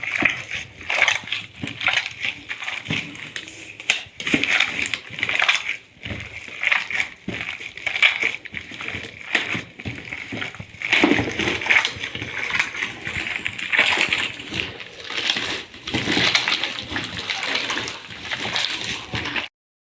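Choux pastry dough for crispy balah el sham worked with eggs until absorbed, giving wet, sticky sloshing and squelching in a steady, repeated rhythm, close up with little talk.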